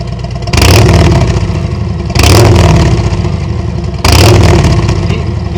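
A motorcycle with a Tab Performance Redline slip-on exhaust is revved three times, each loud, close throttle blip swelling sharply and then dropping back toward idle between the pulses.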